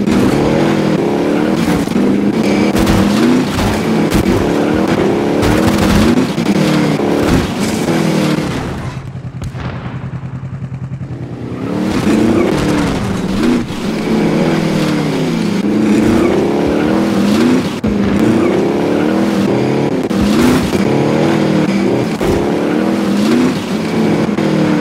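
A vehicle drives in Call of Duty Warzone, its engine loud and continuous with rising and falling revs. It dips briefly to near quiet midway, then roars back up.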